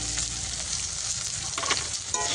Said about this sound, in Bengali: গোটা জিরে গোটা গরম মশলা দিয়ে এবার দিয়ে দেবো পেঁয়াজগুলো।